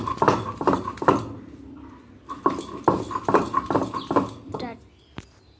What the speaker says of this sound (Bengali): এরপর আমরা সর্ষে, পোস্ত, কাঁচা লঙ্কা আর আদাগুলোকে পাটাতে বেটে নিচ্ছি